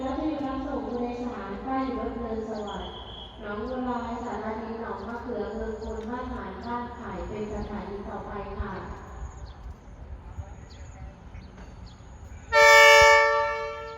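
A Thai railway locomotive sounds a loud, bright horn blast near the end, after a stretch of rumbling train noise with people talking over it.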